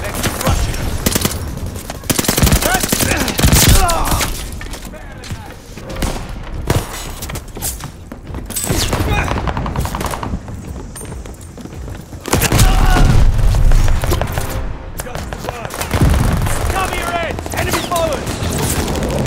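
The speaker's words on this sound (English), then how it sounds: "Shells falling." Artillery shells fall and explode in a Call of Duty: Vanguard wartime battle, with loud repeated booms and bursts of gunfire through a dense, chaotic soundscape and some shouted voices.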